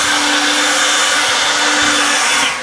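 A battery leaf blower, a Ryobi 18V or an EGO 56V, runs in normal mode with a steady, loud, close whoosh of rushing air and a faint motor whine, easing off just at the end.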